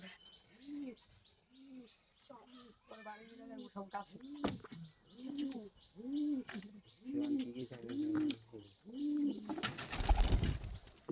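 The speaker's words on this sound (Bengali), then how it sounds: "বাইরে গেছে কবুতর আগে" Pigeons coo repeatedly in soft, rising-and-falling calls, several birds close by, with chirps mixed in and a burst of flapping wings near the end.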